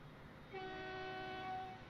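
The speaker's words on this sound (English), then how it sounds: "we're going to ride this train out to our new area" A train in Transport Fever 2 sounds its horn, a steady chord-like tone that starts partway in and holds over quiet rolling rail noise.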